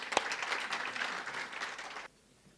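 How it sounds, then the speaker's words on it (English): Applause from a conference audience at a jobs summit, a dense crowd of clapping hands that builds quickly, holds steady for about two seconds, then cuts off abruptly into near silence. "Give some applause to Sunil Genes."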